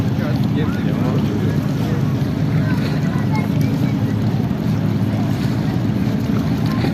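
Ferry crossing the Bosphorus near Üsküdar and Ortaköy, a steady loud rush of engine rumble, wash and wind buffeting the microphone throughout.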